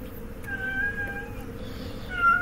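Filtered, synthetic cat meows sound twice, drawn-out and tonal, over a steady low background hum with no talking.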